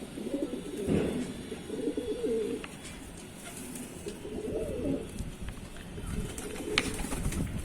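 Pigeons coo in low, rolling bursts over a steady outdoor hum, with several birds calling close by and no voices.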